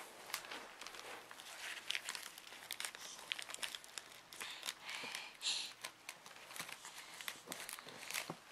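A delivered package opened at home, with continuous close crinkling and rustling of packaging plus scattered sharp crackles and snips.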